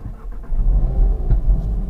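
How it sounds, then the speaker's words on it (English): A 2018 Seat Leon Cupra R with a manual gearbox fires up, its engine settling into a steady, loud, close low rumble that lasts the full two seconds. "So I'll just start the engine up."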